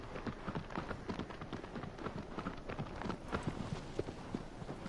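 Horse hooves pounding in a quick galloping rhythm in Shadow of the Colossus, a steady run of thuds over a soft hissing wind-like bed, faint and continuous with no talk.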